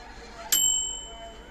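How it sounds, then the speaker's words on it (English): A microwave oven's mechanical timer bell strikes once, close and bright, then rings out and fades over about a second above a soft room hum. "So the timer has this bell on it."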